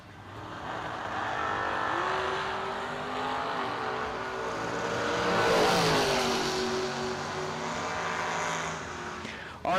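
A Camaro drag racing car launching down the strip at a drag racing event, its engine roaring steadily louder as it accelerates and passes, then fading away.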